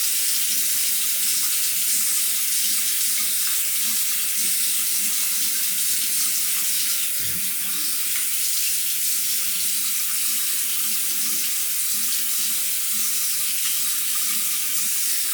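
A bathroom tap runs steadily into a sink while a face is rinsed after a shave with Proraso Green soap, a constant close hiss of water with a brief splash midway.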